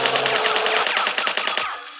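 Rapid gunfire from a sniper rifle in an Android wild animal and dinosaur hunting game, a loud, dense burst of repeated shots that cuts off abruptly near the end.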